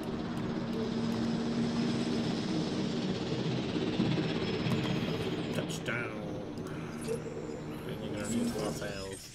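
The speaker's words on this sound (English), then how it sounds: "See the chopper. I hear a chopper." A helicopter arrives in the video game Jurassic World Evolution, its steady engine drone and rotor noise building and holding throughout, with people talking over it.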